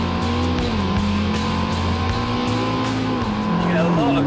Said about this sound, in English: The sound of the engine's lovely.